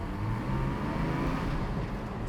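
A Porsche 718 Cayman GT4 engine roars steadily and loudly up close, a continuous full-bodied rumble with no talking over it.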